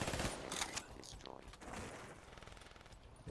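Rapid automatic gunfire in the shooter Black Ops 3 during a team deathmatch, dense bursts of shots rattling close and loud over game noise, with a voice talking over part of it.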